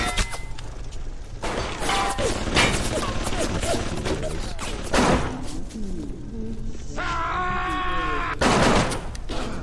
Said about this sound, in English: Jack shooting at me.